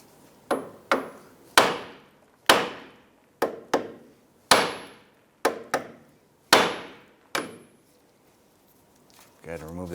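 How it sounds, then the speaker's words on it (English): A hammer strikes the steering knuckle of a 2001-2007 Ford Escape to free the outer tie rod end. About a dozen sharp metallic blows ring out close by in irregular pairs and singles, each fading quickly, with no talking. "Now I'm going to use a hammer and I'm going to strike the knuckle right here"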